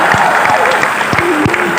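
An audience claps at an Independence Day poetry recital, a dense and lively burst of applause from a crowd.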